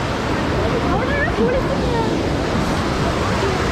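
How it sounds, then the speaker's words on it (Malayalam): Muddy, churning water rushes loudly and continuously at Kacharam Waterfalls in Kanthalloor, a dense roar with faint voices barely audible underneath. "അതാണ് വാട്ടർഫാൾസ് നല്ല രീതിയിൽ കലങ്ങി മറിഞ്ഞാണ് ഒഴുകുന്നത് കേട്ടോ"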